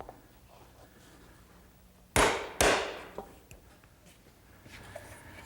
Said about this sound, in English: I'm going to use this tool here, which is just a little corner chisel that's spring-loaded